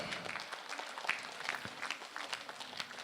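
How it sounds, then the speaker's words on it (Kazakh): Audience clapping at a Kazakh wedding bride-unveiling ceremony (betashar), a steady crowd applause of many hands throughout, moderately loud with no talk over it. "Қошеметтеп қойыңыздар"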